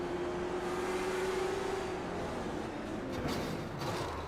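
Onboard engine note of an iRacing sim race car at Langley Speedway, a steady droning throttle tone that eases off partway through as the car lifts and brakes.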